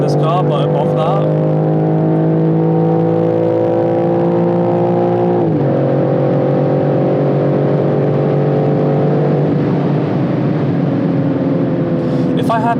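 A touring car pulls hard at high speed on a German Autobahn. Its loud, steady engine drone climbs in pitch, breaks at one clear gear change, then keeps rising, with brief voices at the start and end.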